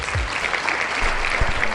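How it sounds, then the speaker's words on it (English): A short burst of dense applause, many hands clapping steadily and loudly as a sound effect, with no voices over it. "hand clap to you, Crypto Joy"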